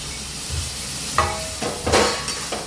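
Ridge gourd and fried coconut hit a pan of chana dal, and a loud steady sizzle follows. A few sharp scrapes and clinks from stirring sound up close.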